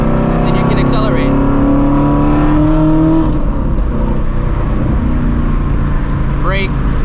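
A manual-transmission car accelerates in first-person driving, its engine tone climbing steadily and loud throughout, with a spoken voice running over the engine.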